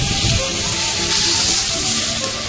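Fish sizzling in hot oil in a pan on a home stove, a steady broadband hiss of frying with small crackles running throughout, close and fairly loud, no voices.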